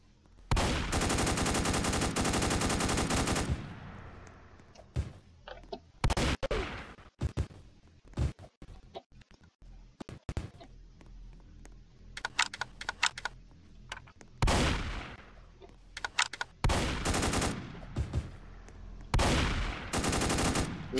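Gunfire in Roblox: a long rapid automatic burst, then scattered single shots and short bursts of varying loudness separated by quieter gaps, close and sharp.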